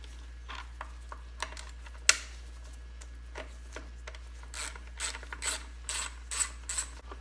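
A hand ratchet with a 5/16 socket backs out cover bolts on a Craftsman DLT 3000 lawn tractor, giving short bursts of close, dry clicking with pauses between turns and a steady low hum underneath.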